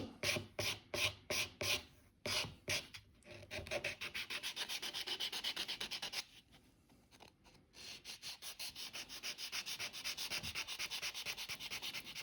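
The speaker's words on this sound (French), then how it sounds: "limage comme ça pour m'assurer qu'il reste uni" Gel nail being filed with a nail file, close and quiet, in quick rhythmic rasping strokes with a brief pause midway before the steady scraping resumes, no talking.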